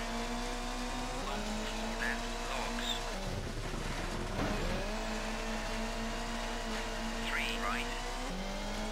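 Rally car in Colin McRae Rally on a UK stage, with a close, steady engine drone and shifting revs, a rougher burst of gravel or skidding midway, and someone talking over it.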